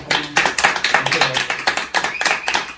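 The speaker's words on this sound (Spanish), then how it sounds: "Un aplauso para el invitado." A small group claps for a guest at the end of a tavern-style podcast episode, a brief burst of sharp, uneven hand claps, close and lively.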